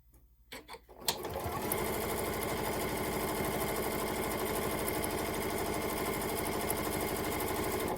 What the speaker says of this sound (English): I've just done some stitching, just straight stitching on them